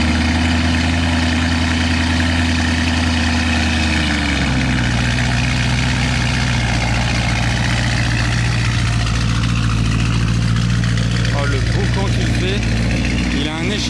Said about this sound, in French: Il a un échappement libre, c'est un monstre. Ah le boucan.